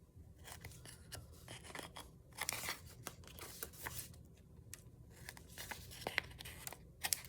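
Scissors snip through the ends of junk mail envelopes, giving quiet, close crisp cuts and papery crinkles scattered irregularly over a low background hum.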